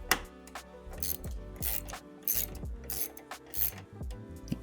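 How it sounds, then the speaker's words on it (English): A small socket wrench ratchets on a clamp during a Mercedes C-Class coolant tank job, giving short bursts of close, crisp clicking with brief pauses between strokes. "And I'll get a little socket for this."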